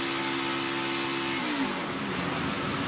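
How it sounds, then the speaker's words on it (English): A NASCAR stock car at Charlotte qualifying for the Coca-Cola 600 holds a steady loud engine drone, then a brief lift off the throttle shifts the tone down before power comes back. "Just a tiny little blip off the throttle for Ty Dillon."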